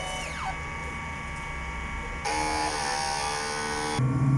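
A DTF printer runs a print head clean, a steady mechanical whirring and buzzing with tonal pump and motor whines that shift in pitch and grow louder partway through, close and continuous.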